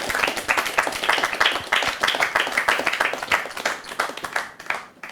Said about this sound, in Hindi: बहुत ज़्यादा आपको प्यार, आशीर्वाद और तालियां आपके लिए